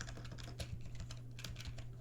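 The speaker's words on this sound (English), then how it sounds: "I hate typing on like PC keyboards." Typing on a PC keyboard, rapid irregular key clicks close by under a low steady hum, no talk.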